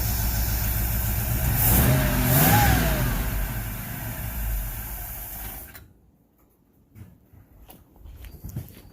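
A Ford Ranchero engine revs up loudly and then winds down to a low idle, with faint rattling afterward.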